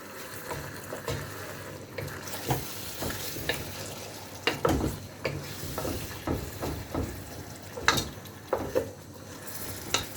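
Spices sizzling in a pan after a splash of water is added, a continuous crackling fry broken by the scrape and clink of stirring, close and fairly quiet, with no talk.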